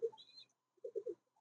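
A Chila pigeon gives a short, soft coo, a brief low burst followed by a quick run of three throaty pulses, faint and close in an otherwise quiet space.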